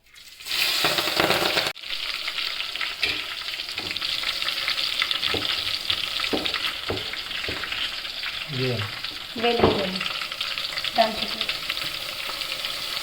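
Mustard seeds, cumin and onion fry in hot oil in a pan, giving a steady loud sizzle throughout with scattered stirring scrapes and a few popping crackles, no voices.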